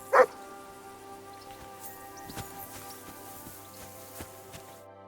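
A dog in Kingdom Come: Deliverance 2 gives one sharp, brief yelp at the start, then only faint whimpering bits follow over a steady tonal game background.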